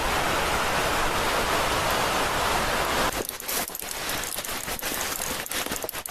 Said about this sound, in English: That noise is a rushing creek just out of view.